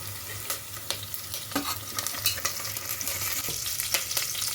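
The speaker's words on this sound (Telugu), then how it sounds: "ఇప్పుడు లైట్గా వేగిపోయిందండి ఆనియన్స్ ఇప్పుడు కొద్దిగా కరివేపాకు యాడ్ చేసుకున్నాము" Onions and curry leaves fry in a pan for an aloo matar kurma. A soft, low sizzle runs under intermittent stirring scrapes and clicks at an uneven rhythm, and no one talks.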